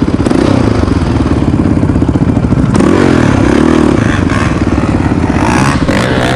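Yamaha Raptor quad bike with no brakes, its engine loud and close throughout, pulsing steadily with a shift in pitch partway through as it changes gear, with rattling clatter over the engine.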